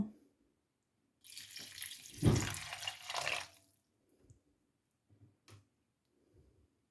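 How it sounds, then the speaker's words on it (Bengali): After a quiet start, water pours steadily into a cooking pot of small fish and potatoes for a couple of seconds, rising to a splashy gush, then stops, followed by a few faint clinks and drips. "এখন আমি এর মধ্যে পরিমাণ মতো পানি দিয়ে দেব"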